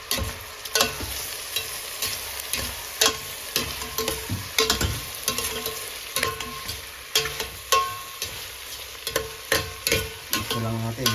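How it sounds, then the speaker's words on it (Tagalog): Beef innards sautéed for papaitan, with a constant sizzle in the pan broken by repeated sharp scraping and stirring knocks from a utensil, close and loud with no talk. "Malupit na pagigisa lang ang technique para mak-achieve natin yung sarap ng papaitan."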